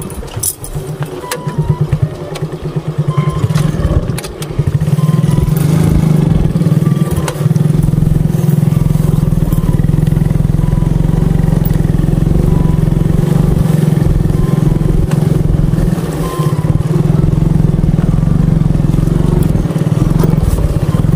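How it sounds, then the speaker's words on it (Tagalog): A motorcycle engine idles on standby outdoors, a steady low rumble running throughout with some jangling and clatter and a brief dip early on. "Ito yung motor natin, buhay pala. Naka-standby yung motor."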